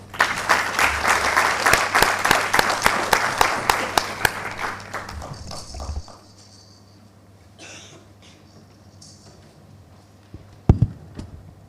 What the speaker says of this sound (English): Please join me in welcoming Padma Shri Syed Kirmani to share his insights and message with us with a thunderous applause